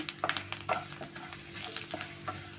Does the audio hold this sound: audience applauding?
no